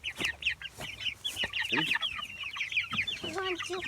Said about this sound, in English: watch the chickens as I move them to a new spot and watch how crazy they go for the new grass